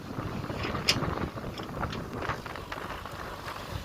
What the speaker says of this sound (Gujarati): ડમરી બહુ ઉડે અત્યારે, પવન છે એટલે